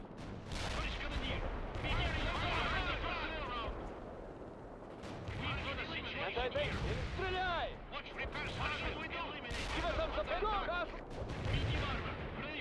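Gunfire from a war video game crackles through the clip in repeated bursts and volleys, with rapid shots and distant booms forming a dense, continuous battle din; people talk faintly underneath.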